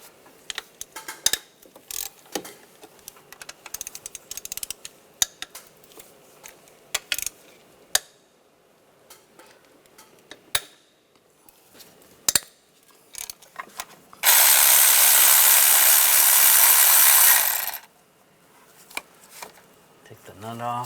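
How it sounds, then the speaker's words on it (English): A ratchet with a 12mm socket loosens nuts on a 1996-2002 Toyota 4Runner intake, heard as scattered sharp clicks and metallic taps under intermittent talk, broken by a loud three-second rushing burst. "Use a 12mm socket. There's a nut on the side here. Loosen that up."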